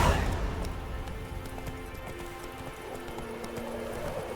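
In The Witcher 3: Wild Hunt, the horse Roach gallops in a steady, fairly quiet run of hoofbeats against a low game soundtrack.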